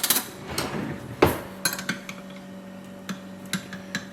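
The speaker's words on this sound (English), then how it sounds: "I'm just going to spoon out a few of these beets" A metal spoon scoops fermented beets out of a glass jar onto a plate, making a series of sharp, close clinks and taps at an irregular pace, with a faint steady hum behind them.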